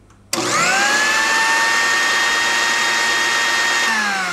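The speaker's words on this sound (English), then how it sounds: "It's literally cutting through these vegetables like there's no tomorrow." A kitchen blender starts abruptly and whirs at a loud, steady high pitch as it chops vegetables, running alone close by before its tone drops slightly near the end.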